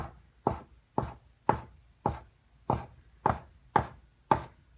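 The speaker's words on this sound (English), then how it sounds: "I take my bench scraper and I cut evenly as best I can all the way down" A bench scraper chops through floured potato gnocchi dough on a board in eight crisp, evenly spaced knocks, close and clear with quiet gaps between strikes.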